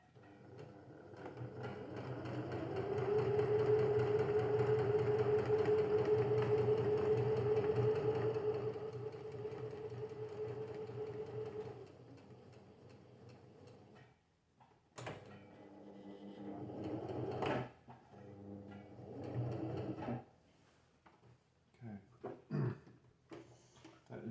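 A sewing machine stitches a fitted sheet in a close, steady whirring run lasting several seconds, then winds down, followed by intermittent handling clicks and fabric rustling.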